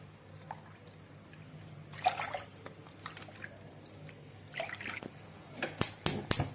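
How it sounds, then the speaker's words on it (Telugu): Water is poured onto sugar in a pan, faint drips and small splashes at first, then louder bursts of splashing liquid near the end. "3 కప్పుల వాటర్ యాడ్ చేసుకుంటున్నా"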